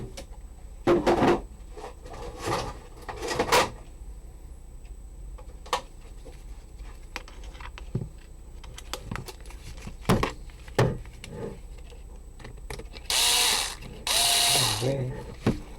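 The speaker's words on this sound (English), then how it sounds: "Then we need to screw those screws." Screws being driven into an e-bike battery pack with a power drill, short ratcheting whirs in separate bursts, close and fairly loud, with quieter clicks and handling between them and a longer high whine near the end.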